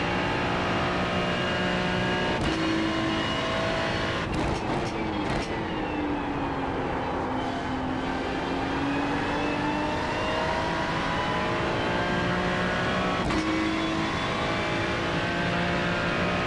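A race car running flat out on the Monza circuit, a steady loud engine drone holding high revs throughout, with pitch sweeping down and back up through the lap and a few sharp bursts along the way.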